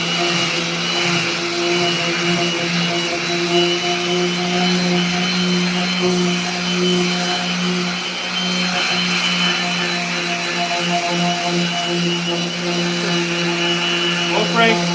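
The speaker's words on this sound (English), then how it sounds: "the vacuum system that's hooked up to this orbital sander" An orbital sander with a vacuum system hooked up to it shapes a skateboard, giving a steady, loud, continuous whirring drone with a droning hum and hiss that holds evenly throughout.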